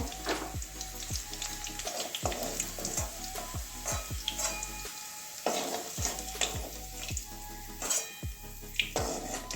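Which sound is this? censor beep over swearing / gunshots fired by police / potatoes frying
potatoes frying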